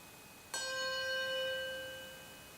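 A single handbell is struck once and left undamped, its bright metallic ring with clear overtones sustaining and slowly fading for about two seconds, alone and close.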